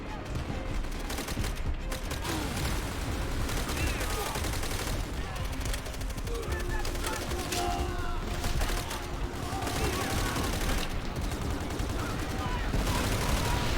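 A dense, unbroken battle soundscape from the shooter World at War, with crackling rifle and machine-gun fire layered over repeated explosions, loud and constant for the whole stretch while talk sits faintly underneath.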